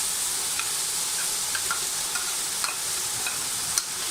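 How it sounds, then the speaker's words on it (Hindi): Green chillies and garlic ginger paste fry with onions in a pan, a steady close sizzle with faint scattered ticks and stirring clicks, no talking. "इसमें हम हरी मिर्चें और लहसुन अदरक का पेस्ट डालने लगे हैं"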